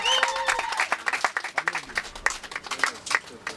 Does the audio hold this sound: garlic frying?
no